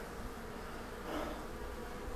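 Honeybees swarm during a large bee removal in Pasadena, Texas, a dense continuous buzzing hum that fills the space at steady volume, close and unbroken, with no voices.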